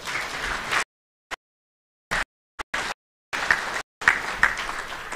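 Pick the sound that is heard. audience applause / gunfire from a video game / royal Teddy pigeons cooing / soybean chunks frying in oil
audience applause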